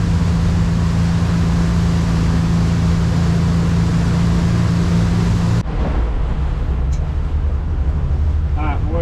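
Damaged Grady White outboard motors rumble roughly as they struggle to idle, a steady loud drone with wind buffeting the microphone, dropping to a lower, thinner running tone partway through.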